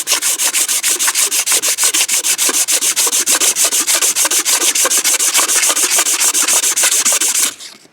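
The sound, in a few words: scraping copper residue off a crankshaft with a razor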